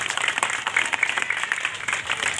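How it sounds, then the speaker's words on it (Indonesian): A crowd applauds the Gorontalo regent at a market event, steady dense clapping throughout, moderately loud with faint voices mixed in. "Tepuk tangan dulu untuk Pak Bupati Gorontalo."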